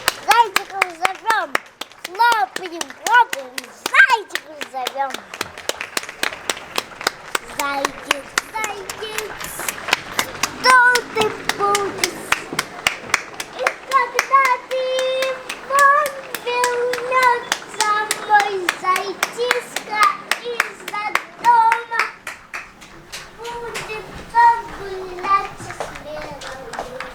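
Children clap their hands in a loose, fairly steady rhythm at a tulip park, with kids' voices and adult talk running over the clapping throughout.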